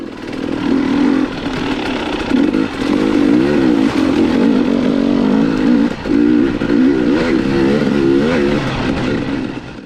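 A Beta XTrainer dirt bike fitted with AMP damping revs hard on a wooded trail, its engine loud and close, climbing and dropping in pitch as the throttle opens and eases through rough ground and up a hill.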